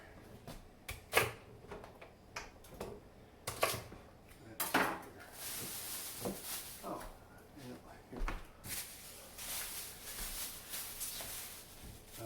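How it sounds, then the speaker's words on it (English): Knife chopping through a full head of celery on a cutting board, a series of sharp close taps at irregular intervals, some isolated and some in quick bursts, with kitchen handling noise in between. "all of the scraps that I'm chopping away are going into the compost"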